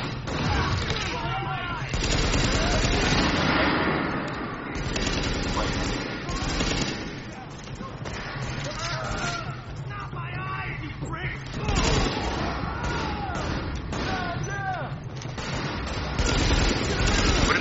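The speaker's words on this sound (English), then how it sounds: "Oh, they are shooting at you." Enemy gunfire in the shooter game Tom Clancy's The Division, steady bursts of shots and booms running throughout while people talk over the top.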